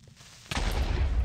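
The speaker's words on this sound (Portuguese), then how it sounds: "Mod de Creeper explodindo em velocidade variada" A Creeper exploding in Minecraft: a quiet lead-in, then a sudden loud blast that rolls into a sustained low rumble, close and alone.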